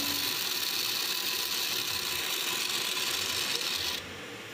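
An old bag-specialist sewing machine runs steadily with a dense, loud mechanical whir and rattle, holding an even pace for about four seconds before dropping off sharply near the end.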